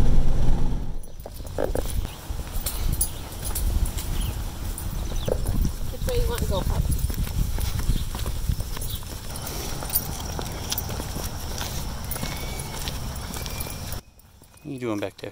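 Horse hooves clip-clop at a steady walking pace outdoors, heard close at the start of a short ride. A voice speaks over the hoofbeats, and a gusty background noise runs throughout.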